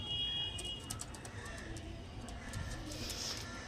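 Two female pigeons coo in low, soft murmurs against a constant hum, fairly faint and close, with a few brief higher chirps near the end.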